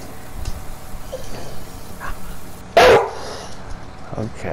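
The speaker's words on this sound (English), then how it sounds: "And there's the other dog, they both turned up now." Dog in Farming Simulator 19 on the Ravenport map gives one short, loud, close bark in the middle, with faint quieter sounds around it and a voice talking nearby.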